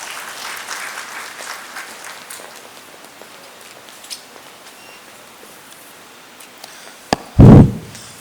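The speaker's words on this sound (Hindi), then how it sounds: "जोरदार करताली सह" Audience applause at the opening of a national bird festival in Odisha, a burst of clapping welcoming a speaker to the stage, rising suddenly near the end of a long stretch of low ambient room noise.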